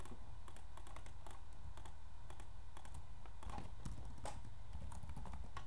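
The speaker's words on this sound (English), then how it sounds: "I just wasted some time typing that into chat or whatever." Rapid, uneven clicking of computer keyboard typing in bursts, steady and moderately close under a constant low background hum.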